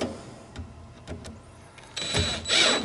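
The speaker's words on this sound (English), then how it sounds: "you're going to take your screwdriver and you're going to tighten these Phillips head screws." A screwdriver tightens Phillips head screws on a Yamaha DKC850 bracket mounted to a Yamaha C3 grand piano: a few separate ticks and clicks, then a louder stretch of scraping, grinding turns, close up.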